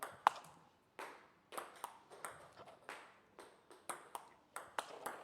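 A series of sharp table tennis backhand loop strokes, roughly a dozen irregularly spaced hits, each a crisp close pop with a short decay.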